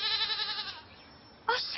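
A hungry pet goat kept in a garden bleats in a loud, wavering call that fades out, followed by a short, sharp second bleat near the end.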